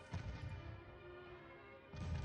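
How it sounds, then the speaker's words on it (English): Naval gunfire explosions in the warship game Ultimate Admiral Dreadnoughts: muffled booms burst at the start and again near the end, with a low, rumbling wash of battle noise between them. "I see explosions all out there as stuff's just popping off."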